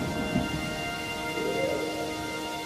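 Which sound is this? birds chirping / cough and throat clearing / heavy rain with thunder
heavy rain with thunder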